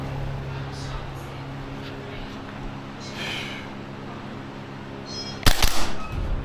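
A Maruyama SPC-9 gas blowback airsoft rifle fires a single sharp, snappy shot with a short mechanical clatter after it, following several seconds of quiet outdoor ambience.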